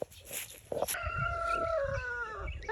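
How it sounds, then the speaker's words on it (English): A rooster crows in a long, strained call with a ragged, wild quality, rising sharply and trailing off over a couple of seconds, near and loud, with some cackling just before it in an outdoor garden setting. "That was like a mad crow."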